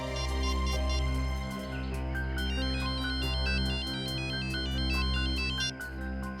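An electronic telephone ringtone plays a repeating melodic pattern of bright tones, steady and clear, with no talking.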